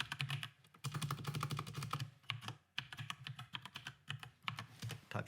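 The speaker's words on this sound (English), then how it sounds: "type in my password, there we go." Typing a password on a computer keyboard, a quick run of close, soft key clicks in irregular bursts with a couple of short pauses, with no talk.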